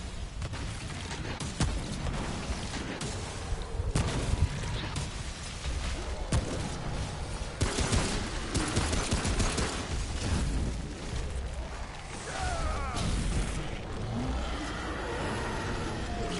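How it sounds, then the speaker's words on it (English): An aerial bombing assault by a boss in Remnant, a dense roaring rumble with repeated heavy blasts and whirring mechanical noise, loud and continuous throughout. "He's just going to drop bombs on you for a second."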